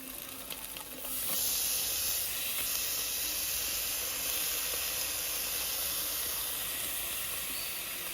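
Crushed garlic, ginger and green chili hitting hot oil in a pan for a prawn biriyani, a sudden loud sizzle that settles into a steady hissing fry lasting several seconds, with no voices over it.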